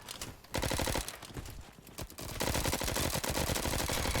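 Rapid-fire gunfire from the online shooter game Bad Business rattles in dense, continuous bursts. There is a brief lull near the start, then sustained automatic shooting through to the end.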